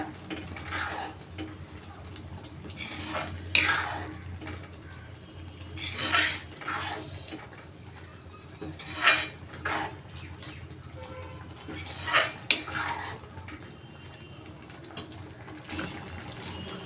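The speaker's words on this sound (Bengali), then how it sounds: "দিয়ে এখন খুব ভালোভাবে আমি এটা মিশিয়ে দেবো" Spice paste being stirred into frying pointed gourd in a pan, with repeated sharp scrapes and clinks of a utensil against the metal at irregular intervals over a low steady background hum.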